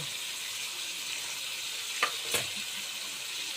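Cumin powder, ginger-garlic paste and coriander paste frying for Bengali-style chicken kosha, a faint steady sizzle broken by two quick scraping stirs of a spoon near the end.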